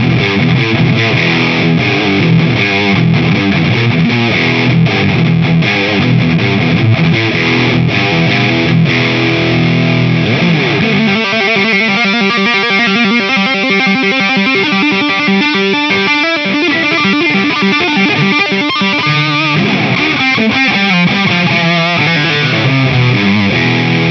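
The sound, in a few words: electric guitar through Boss OS-2 pedal, full distortion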